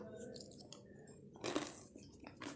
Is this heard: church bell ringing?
no